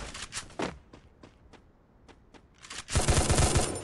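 Gunfire from the Free Fire battle royale game: several sharp separate shots spaced irregularly, then a dense, loud burst of rapid automatic fire near the end.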